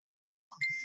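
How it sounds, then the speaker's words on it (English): A mobile phone gives a short bright notification ding that follows a brief soft click, then rings on and fades slowly in an otherwise silent room. "sorry, that's my phone"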